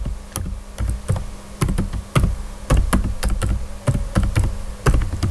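Keys clatter on a computer keyboard in a run of quick, uneven taps, close and fairly loud, as a server name is typed into a cloud console form; no voices.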